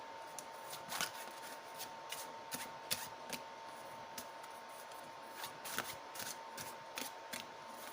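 A tarot card deck being shuffled by hand: close, crisp riffles and flicks of cards in uneven bursts throughout, with no voices.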